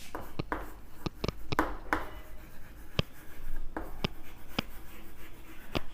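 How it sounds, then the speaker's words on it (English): Chalk or pen strokes writing out an SN2 reaction mechanism, a series of sharp, distinct taps and scratches in irregular rhythm, close and fairly loud against a steady room hiss, with no talking. "So let me write down here"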